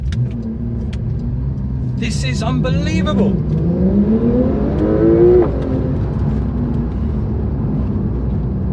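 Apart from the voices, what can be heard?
Porsche 911 992 Turbo S launching and accelerating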